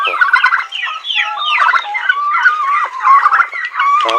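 A domestic turkey gobbles repeatedly in loud, close, rapid bursts of warbling calls, one after another with no voices around.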